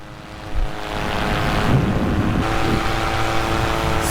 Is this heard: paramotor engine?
yes